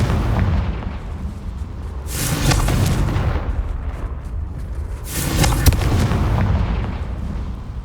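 Two heavy booming blasts from the Confringo fire spell in Hogwarts Legacy, each rolling out loud and long over a dense rumbling background, spaced a few seconds apart.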